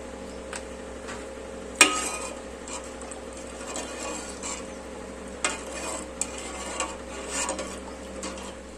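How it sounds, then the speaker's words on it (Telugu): A ladle stirs coconut rice with milk in a pot, giving soft scraping and occasional sharp clinks against the metal over a low steady background, near and fairly quiet, with no talking. "ఎసురు మరిగే వరకు కలుపుతూ ఉంచుకోండి."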